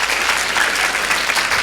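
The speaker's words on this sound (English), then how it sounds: "Give her a round of applause." An audience at a talk on the Bhagavad Gita breaks into steady, dense applause, with many hands clapping evenly for the whole moment at a fairly loud level and no speech over it.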